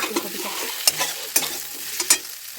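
Fried cauliflower stirred with cooked spice masala in a pan, a close steady sizzle punctuated by several sharp scraping strokes of the spatula at regular intervals, with no talking.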